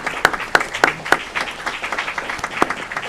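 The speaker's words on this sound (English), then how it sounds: "We give them a round of applause." Scattered handclaps from a small audience at an Aurora city committee meeting, a handful of sharp, unevenly spaced claps standing out over a thin patter of applause in a room.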